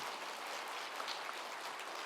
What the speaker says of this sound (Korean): 우리 하나님께 박수로 영광을 돌립시다